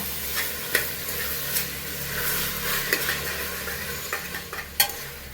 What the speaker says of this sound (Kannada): ಇದಕ್ಕೊಂದು ಮಿಕ್ಸ್ ಕೊಡೋಣ.